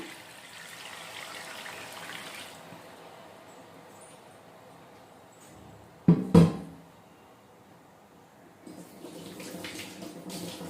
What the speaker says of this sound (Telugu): చింతపండు రసం పోసుకుంటున్నాను